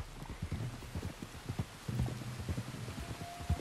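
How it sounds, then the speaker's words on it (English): Steady rain hisses across the whole scene in the video game Red Dead Redemption 2, with a horse's hooves clopping irregularly underneath at moderate loudness. "You were right about the damn rain."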